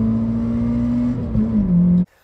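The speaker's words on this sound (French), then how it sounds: "petit moteur rageur avec des rupteurs à 7200 tours minute" A 1996 Peugeot 106 Rallye with its 1.6-litre eight-valve TU engine revs hard and steady close up, holds high, dips briefly, then climbs again before cutting off abruptly into near silence.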